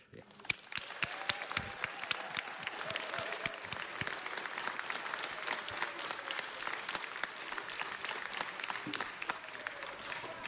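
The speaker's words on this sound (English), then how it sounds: "Can we give Paul Koretz and all of our other guests the type of round of applause that they truly deserve?" Steady, sustained applause fills a city council chamber for a former councilmember and other guests, a dense crowd clapping evenly throughout at moderate distance.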